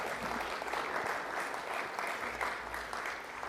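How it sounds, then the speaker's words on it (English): Steady applause from an audience at a members meeting greets a newly elected director, a dense continuous clapping that holds at an even level throughout with no talk over it. "perhaps give him a round of applause because he was elected unopposed"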